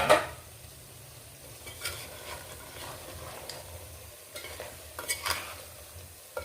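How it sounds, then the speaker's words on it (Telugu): Salted sambar vegetables, including drumsticks, being mixed in a pot, with repeated scraping and clattering of a spoon against metal over a soft background sizzle. "ఉప్పు వేసి బాగా కలిపేసి మూత పెట్టేద్దాం"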